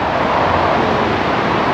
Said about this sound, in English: if you can hear me above the noise of them cars